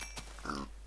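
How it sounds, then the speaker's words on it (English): A pig grunts once in a video game, a short close oink over a steady low background hum. "I'm going to just kill a couple of pigs"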